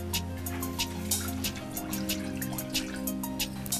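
Milk being poured into a bowl for a carrot and nut milkshake, a steady trickling, dripping liquid sound heard up close with no talk.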